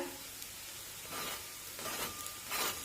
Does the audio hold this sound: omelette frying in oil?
yes